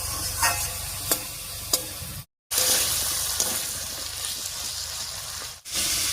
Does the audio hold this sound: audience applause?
no